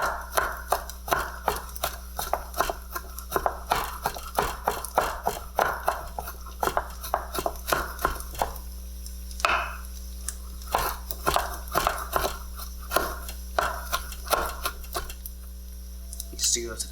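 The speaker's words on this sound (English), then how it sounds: "I'm just going to cut up this" A kitchen knife repeatedly chopping ingredients on a cutting board while making crab fried rice, steady close knocks in an uneven rhythm over a constant electrical hum, with a brief pause partway through.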